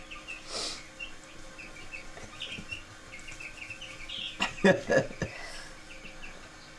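Newly hatched chicks and chickens chirp and cluck in a coop, with scattered soft peeps and a cluster of louder clucks near the end, under occasional talking.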